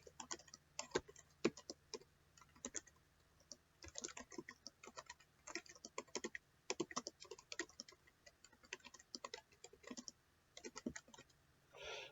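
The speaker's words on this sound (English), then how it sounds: "so my typing speed was 49 if I wasn't making mistakes, but I had 7 errors" Someone types fast on a computer keyboard during a typing test, producing quiet, irregular clusters of key clicks with brief pauses, close to the microphone and without speech.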